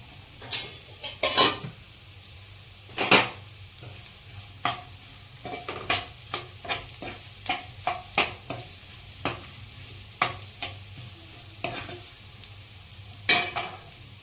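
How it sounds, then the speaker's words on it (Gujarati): Peanuts roast in a pan with a pinch of turmeric for a farali moraiyo dish, a soft sizzle under a run of sharp, irregular spoon scrapes and clinks against the metal, close by, with no voices. "શિંગદાણા શેકી જાય એટલે આપણે ચપટી હળદર નાખીશું."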